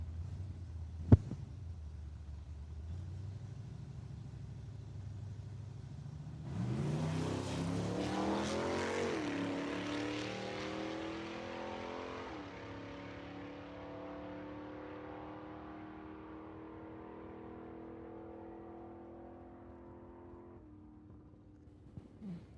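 Chevrolet Vega wagon and classic Mustang launch at a drag strip: a sharp crack, idling rumble, then engines roar off the line and fade slowly into the distance.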